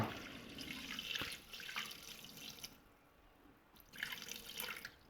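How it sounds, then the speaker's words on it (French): Water poured into a Thermomix bowl on its scale, about 290 to 300 grams for homemade bread dough: nearby, fairly soft splashing and trickling in bursts, with a quiet pause partway through and no talking. "je mets 290 à 300 grammes d'eau dans le bol"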